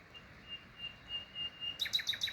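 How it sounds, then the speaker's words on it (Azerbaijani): Birds start singing in a garden of onions, tarragon and mint after rain stops; several short, bright chirps repeat in a quick rhythm near the end, fairly faint over a soft background hiss. "Quşlar ötməyə başladı."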